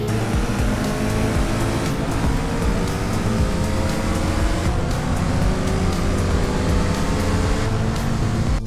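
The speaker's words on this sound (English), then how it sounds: "I added realistic car sounds. Now every car actually sounds different, and way more like their real-life counterparts." A modded car engine in GTA San Andreas roars steadily and loudly throughout, a dense unbroken engine drone with no pauses or speech.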